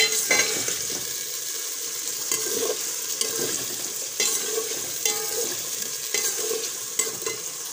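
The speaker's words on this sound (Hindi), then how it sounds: "इसके साथ ही मैंने चिकन भी अपना ऐड कर दिया इसमें, साथ ही चिकन की बनाई करते हैं जब तक चिकन का कलर चेंज नहीं होता" Chicken fries in a pot under a constant hiss while a utensil scrapes and stirs in regular strokes, close up and without talk.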